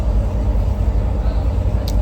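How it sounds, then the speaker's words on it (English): Steady low engine rumble aboard a moving ferry, loud and continuous throughout, with a brief higher-pitched noise near the end. "We're on the ferry now."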